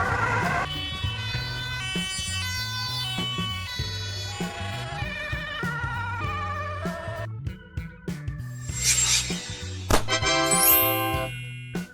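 A Dutch ambulance siren sounds with a steady, close, tonal wail that alternates pitch repeatedly, joined near the end by brighter jingling tones.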